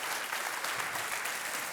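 Dense, steady applause from a studio audience on the KBC quiz show, a continuous broadband clatter of many hands filling the whole moment with no voices on top.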